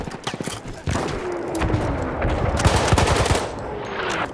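A submachine gun rattles in rapid sustained bursts during Battlefield 1 gameplay, loud and close, the fire thickening into a continuous stream after a brief opening volley.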